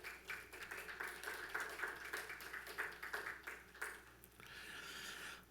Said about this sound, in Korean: 우리 박수로 우리 한번 격려하며 환영하겠습니다